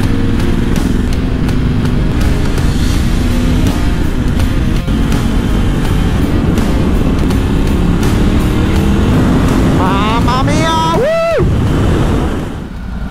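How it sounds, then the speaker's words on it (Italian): A motorcycle engine revs as the bike is ridden, buried in steady, loud wind roar for most of the ride, with a rising and falling rev swell near the end. "quando tiri senti il motore"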